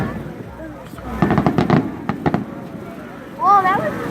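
Fireworks bursting at a July 4th show, several sharp pops and crackles in quick succession mid-clip, heard at a distance with people talking over and between the bursts.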